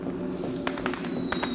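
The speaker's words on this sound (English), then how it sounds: "All the fireworks going off above the castle." Fireworks burst above a theme-park castle in the Dark Deception video game, with a few soft distant pops and crackles over a steady musical drone.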